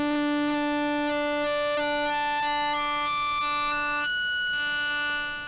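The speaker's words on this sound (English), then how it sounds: "So that's sort of overtones there on SAW mod, and then this shape, again sort of the harmonic timbre to it" An Arturia MicroFreak's SAW-X oscillator with SAW mod and shape dialed in drones continuously, its bright harmonic overtones shifting in steps as the timbre is swept, the level holding steady and then easing off at the end.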